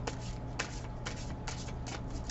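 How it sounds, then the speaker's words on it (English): Tarot cards shuffled by hand in a close, steady series of crisp riffling bursts, with soft papery rustles between them and no voices. "the shuffling of the cards and the choosing of the cards for the piles"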